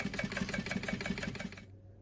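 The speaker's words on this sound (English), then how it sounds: "now we're going to sew the linings together" A sewing machine stitches toiletry bag linings together, a quick even mechanical whirring with a regular chugging beat at close range, running for under two seconds before stopping abruptly.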